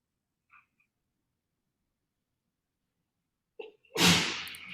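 A single sharp sneeze bursts out near the end, loud and close, after a long quiet stretch broken only by a couple of faint small noises.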